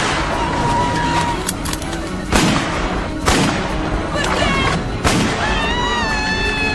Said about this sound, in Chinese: 几名狙击手决然扣下了扳机